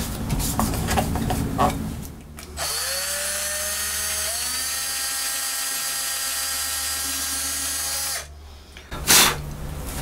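A power drill boring pilot holes into a 1950s Magnatone Varsity lap steel guitar body, one steady whirring run of about six seconds between quieter handling noises, close and fairly loud.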